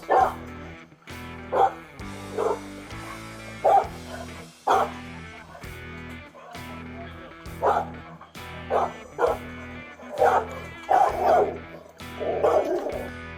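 A pit bull barks repeatedly at night on a Tennessee police bodycam, loud, close woofs roughly every second, some with yelping or whimpering edges, over a low background hum.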